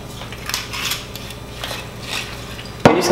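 A rum cocktail being mixed, with soft scraping and clinking strokes of stirring in a glass repeating every half second or so, then a sudden louder rattling burst near the end, close and without voices.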